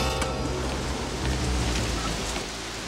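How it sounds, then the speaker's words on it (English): Heavy rain pours down steadily, a dense, continuous hiss of drops drumming on surfaces with no pauses. "it's raining cats and dogs"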